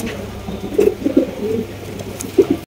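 A pair of red Danish pigeons coo softly in a few short bursts against a murky background hum, with no one speaking.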